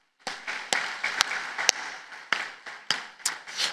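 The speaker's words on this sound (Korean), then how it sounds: "우리 격려의 박수 한번 하겠습니다" Applause of encouragement rings out from a congregation during a Korean church worship service at a prayer retreat, a dense spread of many hands clapping with louder individual claps popping through, continuous and fairly close for several seconds.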